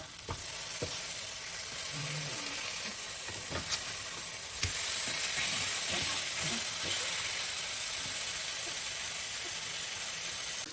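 Chicken pieces fry in a pan on a home stovetop and get turned over, giving a steady loud sizzle and hiss with scattered clicks and scrapes of the utensil, the sizzle swelling slightly midway and continuing unbroken.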